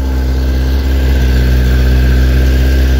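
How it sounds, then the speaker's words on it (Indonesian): A Kawasaki ZX-10R motorcycle engine idles while warming up, a steady, loud, close rumble with even low pulsing and no revving throughout. "Tadi di belakang motor ini juga udah kita nyalakan, tapi di sini kita tunggulah sebentar lagi sampai temperatur mesinnya, suhu mesinnya sampai di atas 50 derajat."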